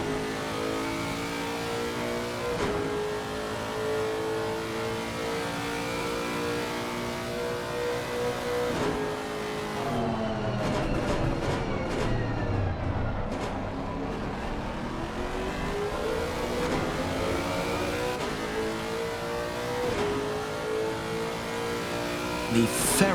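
Lexus RC F race car with a 5.4-litre V8 revving hard at the Red Bull Ring circuit, a loud sustained engine roar with rising and falling pitch as it passes close, spoken commentary running over it.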